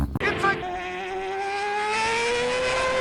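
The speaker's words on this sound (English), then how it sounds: "We're talking about the Wankel Rotary Engine." A small Wankel rotary engine starts with a brief sputter, then settles into a steady, high, buzzing drone that rises slightly in pitch and holds.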